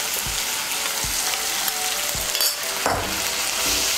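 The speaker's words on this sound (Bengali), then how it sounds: "সর্ষে বাটা আর কাঁচা লঙ্কা বাটাটাকে মিশিয়ে নেব" Mustard and green chilli paste frying in a pan as it is stirred, a dense hiss of sizzling with several dull knocks and scrapes of the spoon against the pan, close and steady, no voices.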